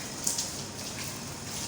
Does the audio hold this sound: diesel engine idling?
no